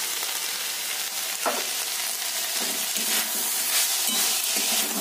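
Banana stem chhechki, sweetened with a little sugar, fries in a pan with a steady, moderately close sizzle and soft stirring scrapes throughout, with no talk.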